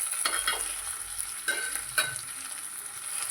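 Eggplant for a sardine curry is stirred and sautéed in a pan, giving a soft steady sizzle broken by a few scraping strokes of the spoon against the pan.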